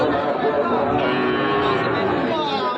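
Sahiwal cattle low at a busy cattle market, a sustained moo close by over a dense, constant wash of crowd chatter and background noise.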